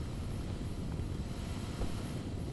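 A steady propeller airplane drone in GTA Online, a constant even engine hum with no talk, holding at a moderate level throughout.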